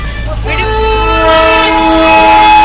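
A diesel train passes near Gangtok, a loud rumbling roll joined by a sustained, rising horn-like tone that swells and holds to the end.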